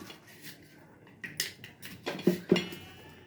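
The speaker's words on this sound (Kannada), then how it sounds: "ಅಲ್ಲಿವರೆಗೂ ಇದು ಉಪ್ಪು ಹಾಕ್ತೀನಿ ನೋಡಿ" A spoon clinks and scrapes against a cooking pot while salt is added for a potato and sprouted-bean misal, several sharp metallic taps near the end, close and clear, with no talking.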